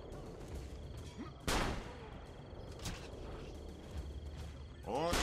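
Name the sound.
pistol gunshot in a video game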